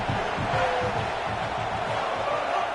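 Roaring stadium crowd at a Texas A&M versus South Carolina college football game, a dense, sustained wall of noise with continuous shouting and rumble from thousands of fans, steady and loud from start to finish.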